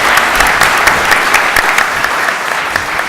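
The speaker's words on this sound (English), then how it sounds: "maybe a warm round of applause for Aminata." An audience breaks into a warm, sustained round of applause at an evening lecture in the Rode Hoed in Amsterdam, dense steady clapping close and loud for the whole span.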